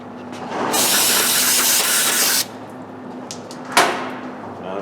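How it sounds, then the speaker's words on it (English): A loud aerosol spray hisses in one long burst of about two seconds while cleaning dust off brake parts on a 2002 Dodge diesel, followed by a short second spray after a pause. "All right, again, we'll spray it down."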